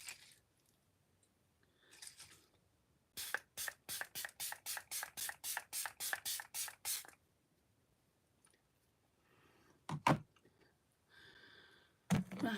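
A rapid series of about a dozen short, hissy bursts of makeup setting spray in steady rhythm, with a few scattered clicks and quiet handling noises around them.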